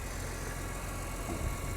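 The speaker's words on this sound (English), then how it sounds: "We'll just let her idle here for a little bit." A car engine idles at low level, a steady faint rumble with a small bump near the end, heard alone without talk.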